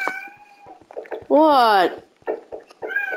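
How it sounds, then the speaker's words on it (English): A pet cat named Ted lets out a loud, drawn-out meow close to the microphone, with a rising-then-falling wavering pitch, set amid a person's speech before and after. "Sorry guys, that's my cat."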